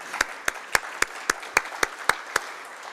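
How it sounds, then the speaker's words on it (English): Slow, evenly spaced claps from a small audience at a defense and diplomacy conference panel, about ten sharp hand claps at a steady beat, fairly close and otherwise quiet. "So really like to give a round of applause to Indo-PACOM."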